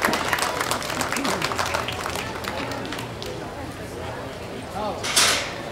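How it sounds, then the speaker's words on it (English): An audience at a farm show livestock ring claps in a brisk, scattered round of applause that fades out, with voices talking over it and a brief rustling burst near the end. "Let's give them a nice round of applause."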